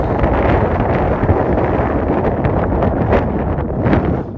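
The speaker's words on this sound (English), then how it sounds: "The wind is a pain." Strong wind buffets the microphone on a countryside walk between Marsden and Greenfield, a loud, continuous broadband roar with gusty swells and no voices.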